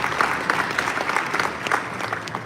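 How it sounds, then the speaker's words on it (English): Audience applause at a summit, a moderately loud crowd clapping with distinct individual claps popping out of a steady wash, continuing evenly for a couple of seconds without speech. "So please, round of applause for them."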